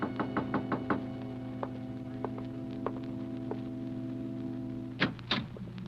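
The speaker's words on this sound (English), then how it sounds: "there was a knock on the door" A knock on the door in an old radio drama: several quick raps at the start, a few scattered single knocks, then a louder double knock near the end, all over a steady mains hum.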